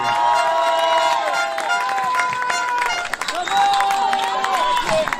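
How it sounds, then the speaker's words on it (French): A crowd at a protest rally cheers and claps, loud and close, with shouting voices and bursts of vocal chant-like tones over the applause. "Un tonnerre d'applaudissements pour Pierre Cerne, s'il vous plaît."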